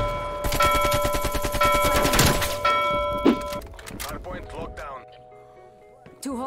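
Rapid automatic fire from a Cursed Angel AK-47 in Call of Duty: Cold War rattles loud and close for about three seconds, followed by a few scattered thuds and game effects as it tapers off, with no voice over it.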